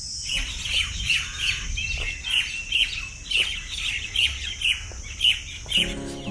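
Birds chirp and tweet repeatedly from the trees at Lodhi Garden park, sharp high calls coming in a steady rhythmic series over faint outdoor background noise, with no talking.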